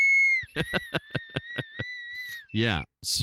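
A shrill whistle is blown in a long steady blast, then pulsed in a rapid series of short toots with a wavering pitch, followed by a rougher, buzzy blast, and a voice speaks briefly near the end.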